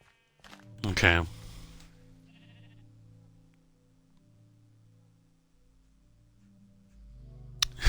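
A sheep gives one loud, wavering bleat up close, followed by quieter low sounds and some movement, with a voice talking at the very end.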